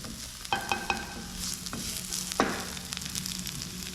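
Vegetables frying in oil for a vegetable soup, a steady close sizzle with a few sharp clinks of a stirring utensil against the pan, no talking.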